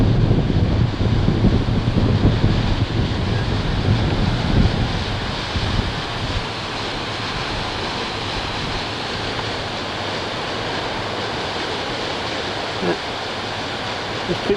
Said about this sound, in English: It is breezy, but it's not cold. One of them big rocks out there. And then it's not cold here. And the tide is coming in.